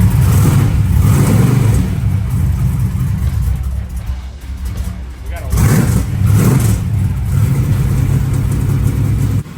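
A car engine starts and runs at a track, a loud steady rumble with two blips of revving near the middle and later, while voices talk nearby.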